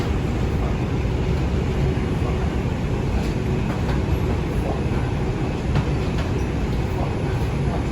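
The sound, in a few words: Manhattan-bound 2 subway train at station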